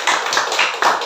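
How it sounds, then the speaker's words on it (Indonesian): A classroom of students claps for a classmate, brisk overlapping handclaps in a few quick bursts, close and fairly loud. "tepuk tangan untuk Vina."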